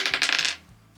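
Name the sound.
die rolling on a table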